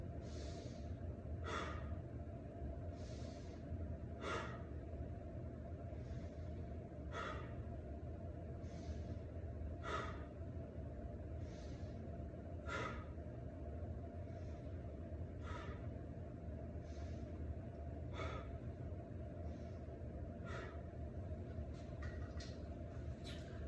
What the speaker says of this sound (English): Deep breath. Deep breath.